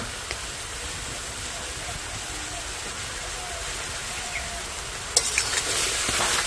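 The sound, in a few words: stirring tomatoes cooking in a pan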